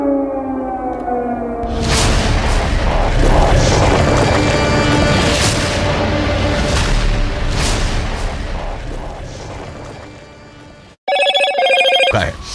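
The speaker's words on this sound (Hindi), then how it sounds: "एक बड़ा धमाका जो दूर से ही कैमरे में भी कैद हुआ" A deep, booming air-strike explosion over Gaza swells into a long rumbling roar lasting several seconds, with wailing siren-like tones before it and a sharp ringing burst after, heard from a distance.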